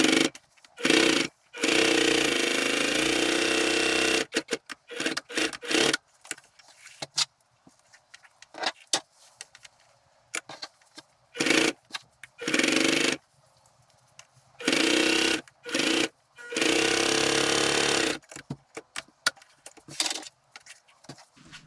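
Sewing machine stitching insulated canteen pouch fabric in several short, loud runs of rapid buzzing, separated by pauses filled with clicks and fabric handling.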